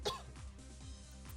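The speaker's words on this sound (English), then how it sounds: "Just have a cough." One short, sharp cough bursts out near the start, close and abrupt, followed by quiet breathing and faint low murmurs.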